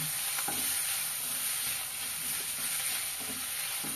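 Gobi manchurian frying in a pan gives a steady, close, even sizzle with a few soft stirring knocks, and no voices over it.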